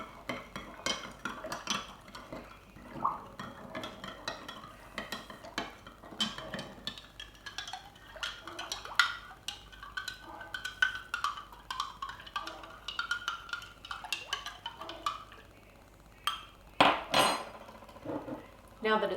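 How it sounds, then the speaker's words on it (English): Brine solution stirred in a jar, with repeated close clinks and scrapes of a utensil against the container in an uneven rhythm, fairly quiet with a faint background hum. "And then I simply just mix it to make the nice brine solution."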